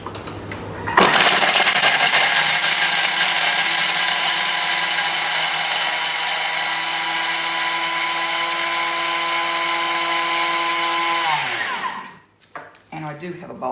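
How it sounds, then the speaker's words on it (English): A Thermomix grinds half a block of Parmesan at top speed for about ten seconds, a loud steady high-pitched whirring blade roar that cuts off abruptly near the end, followed by brief clattering. "we're going to put the lid on, and we're going to grate that"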